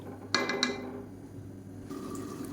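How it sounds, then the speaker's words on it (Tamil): Water poured into a cooking pot while making dalcha, a brief splashing fill with a couple of clinks at the start, followed by a steady low trickle and kitchen hum. "முதல்ல தண்ணி ஊற்றிக்கோங்க"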